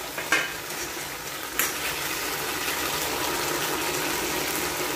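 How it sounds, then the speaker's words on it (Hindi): Chicken lollipops dropped into boiling gravy in a pan, a couple of sharp splashes followed by a steady loud sizzle and bubbling, with no talking. "तो देखिए इसमें बॉईल आने लग गया है, अब हम इसमें जो लॉलीपॉप है वो भी ऐड कर देंगे"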